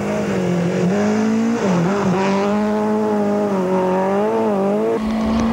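A Nissan rally car drives a stage at the 2004 New Zealand Rally Championship round in Hawkes Bay, its engine loud and close, with the pitch rising and falling through gear changes and lifts.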